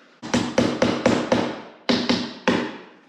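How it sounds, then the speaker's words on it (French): Metal hammer tapping on car trim during a car bodywork restoration: eight sharp, loud close strikes, five in a quick even run, then a pause and three more, each ringing briefly and decaying. "le marteau"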